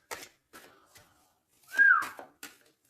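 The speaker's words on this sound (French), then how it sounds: "Non, c'est pas bien siffler, pardon." A person whistles a short rising note among a few quiet clicks and soft sounds, close and fairly loud for a moment.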